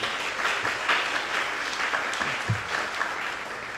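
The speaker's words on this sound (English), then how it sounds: "So just a round of applause for Glencliff High School for helping us put this together." An audience at a Nashville community meeting on rezoning, held at Glencliff High School, gives a moderate round of applause, soft and somewhat distant clapping that continues evenly throughout.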